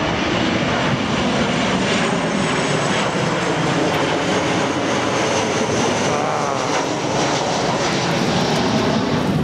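A loud, steady airplane roar fills the whole stretch near Los Angeles airport, a broad engine drone passing close overhead without pause.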